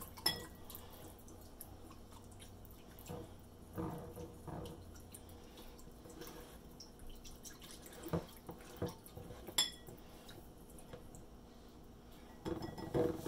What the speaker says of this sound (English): just whisk this up